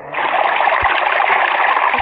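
Water pouring steadily into a swimming pool, a continuous broadband splashing rush that stays close and fairly loud for its whole length, with no voices over it.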